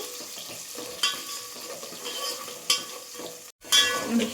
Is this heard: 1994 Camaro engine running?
no